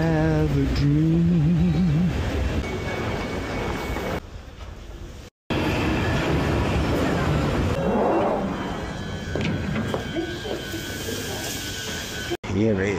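A driverless Docklands Light Railway train runs with a steady rumble and screeching, squealing wheels, heard from on board, with voices speaking over it and a couple of abrupt cuts.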